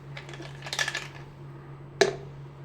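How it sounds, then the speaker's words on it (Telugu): Ice pieces clatter into a mixer jar for a chocolate milkshake in a quick cluster of hard little clinks, then one sharper knock, over a low steady hum. "నెక్స్ట్ ఐస్ పీసెస్ వేసుకోండి"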